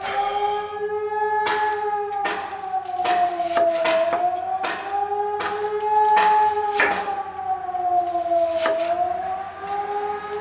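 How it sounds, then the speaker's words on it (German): Onions being chopped with a knife outdoors at a grill, a run of sharp, irregular knife taps on a board heard under a loud, wavering civil defense siren that rises and falls throughout. "Erst einmal ein paar Zwiebeln klein schnibbeln."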